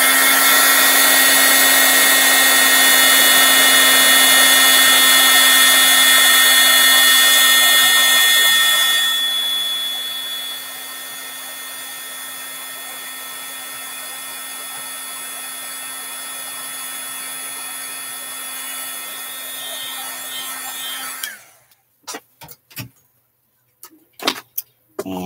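A handheld heat tool blasts hot air onto a card to set embossing powder, a steady loud whirring drone that drops in level partway through, then cuts off, leaving a few faint clicks and handling sounds.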